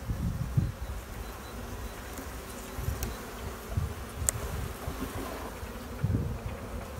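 Honeybees hum steadily around an open hive where brood is affected by foulbrood, a soft close swarm drone with faint wind noise and no talking.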